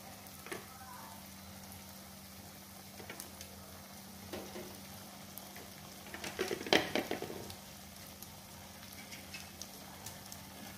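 Fish pieces settle into yellow spice paste frying in a pan, giving a soft steady sizzle with occasional stirring clinks and a brief louder scrape in the middle, faint and close.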